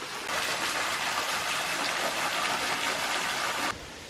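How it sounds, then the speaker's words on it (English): A small waterfall in a ravine trickles and splashes as a steady, close rush of water that stops suddenly near the end. "The second falls is only a trinkle."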